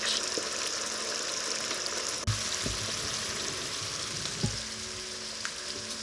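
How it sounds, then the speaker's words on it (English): Steady, close sizzling of base ingredients for Tuscan bean soup, including bacon, frying in a pan, with a few soft knocks of a utensil against the pan. "we've got the base ingredients on the sizzle, as you can hear"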